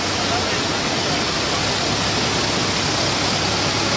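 Floodwater from a swollen stream in Nandyal district rushes in a steady, loud, unbroken roar that fills the whole stretch with dense broadband noise.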